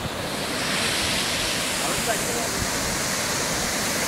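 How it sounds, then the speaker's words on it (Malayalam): Steady wind rushes across the microphone in the Nelliyampathy Hills, a continuous broadband roar without clear speech. "കാറ്റടിക്കുന്നു"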